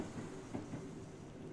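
A long train passing in the Burger & Frights video game, a low rumbling rail sound with faint rhythmic clatter, continuous and somewhat distant.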